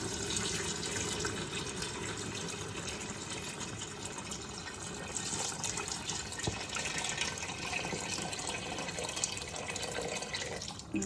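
Lukewarm water, about 2.5 litres, pours into harira soup in a Ninja Foodi Max, a steady, faint splashing and trickling stream that runs unbroken for several seconds.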